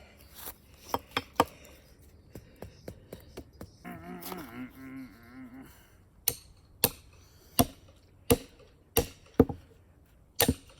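Hammering work on clay produces sharp, loud, close strikes, first scattered and then settling into an even rhythm of about one blow every half second, with a brief voiced sound between the bursts.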